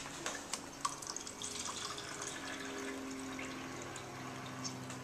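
Steady stream of cold tap water running and splashing into a measuring cup, continuous and fairly close, with no talking.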